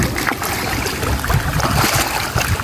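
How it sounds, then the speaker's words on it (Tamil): Small backyard stream flowing with a continuous broadband rush and trickle, close and fairly loud, no voices. "இங்கே ஒரு ஓடை ஓடுது"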